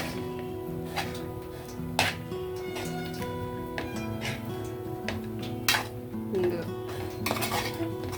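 A spoon stirs flattened rice pulihora mixed with squeezed lemon juice in a pan off the stove, producing repeated metallic clinks and scrapes against the pan at an uneven rhythm, close and moderately loud.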